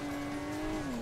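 A motorcycle on nitro boost in the mobile game Hill Climb Racing 2 gives a steady high engine whine that dips slightly in pitch near the end, loud and brief.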